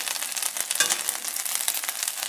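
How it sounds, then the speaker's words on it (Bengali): Whole spices crackle and sizzle steadily in hot oil for a chana dal tempering, a dense close frying hiss with small pops and no voices. "এখন ছোলার ডালে সম্বারাটা দিয়ে দিচ্ছি"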